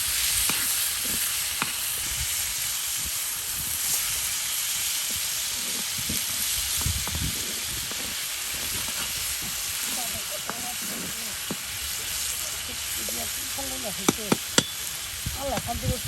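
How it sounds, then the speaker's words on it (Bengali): Chopped ash gourd frying in oil in a pan, a steady loud sizzle and hiss with stirring scrapes and clinks, while a voice talks over it. "দেখুন, তেলের সাথে একদম ভেজে নেওয়া হবে, আর কিছুক্ষণ পরেই কিন্তু কুমড়ো ভাজি হয়ে যাবে।"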